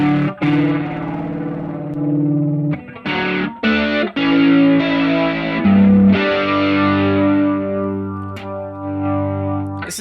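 Guitar runs through the Ampeg Liquifier chorus model on a Line 6 Helix, with a shimmering, slightly boxy modulated tone. Sustained chords and a few short picked stabs play alone, with no voice.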